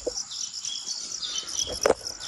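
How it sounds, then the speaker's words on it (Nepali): Birds in a village chirp and tweet in short high calls against a quiet outdoor background, with a faint insect-like trill running underneath. "चराहरू कराएको कति राम्रो सुनिएको छ।"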